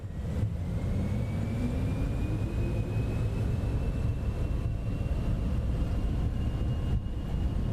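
A Cessna Citation X business jet taking off in Microsoft Flight Simulator 2024 gives a loud, steady engine roar with a slowly rising turbine whine, continuous and close, with no talk.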